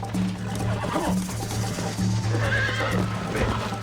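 A horse in the PC remaster of the video game Red Dead Redemption neighs and whinnies over a steady low in-game hum, with faint hoof clops mixed in across a few seconds.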